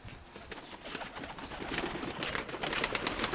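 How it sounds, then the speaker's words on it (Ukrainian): Young pigeons coo softly amid faint rustling and scattered chirps at a fair, a low steady murmur of birds close by. "Ось такі голуб'ята"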